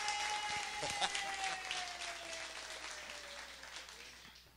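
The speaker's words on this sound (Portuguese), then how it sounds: "uma salva de palmas para ele" A live audience at a poetry event at FestiPoa applauds to welcome the writer Paulo Scott, the clapping loud at first and slowly fading, with a sustained tone and murmuring voices underneath.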